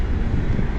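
Steady headwind roaring across the microphone while cycling a road route in Crimea in May, a continuous low buffeting rumble with no break and no talk.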